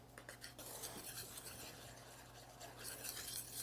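A spoon stirs a half spoonful of salt and a spoonful of sugar in a bowl for apple cider flatbread, giving very quiet, continuous scraping and clinking with no voices.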